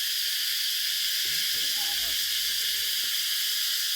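Cicadas drone in rural countryside, a loud, steady high-pitched buzz that fills the whole stretch without a break, while a faint voice stirs briefly in the middle.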